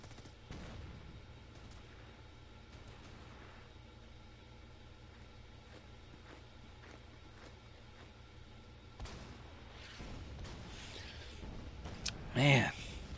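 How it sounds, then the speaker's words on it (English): Japanese artillery and gunfire in the Red Star video game during the Khalkhin Gol battle, with steady distant rumbling barrages and scattered shots beneath continuous talk, ending in a louder close blast. "Man, this Japanese artillery is really tough."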